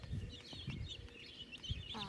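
Young chicks, a mix of Bantam, amber lynx, barred rock and Rhode Island Red, peep and cheep continuously close by in a busy overlapping chorus, with soft low rustling beneath.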